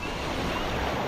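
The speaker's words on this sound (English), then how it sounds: "The sea is rough." Rough sea surf washes steadily onto a beach between the sand and the water, a continuous broad roar with wind noise on the microphone and no clear breaks.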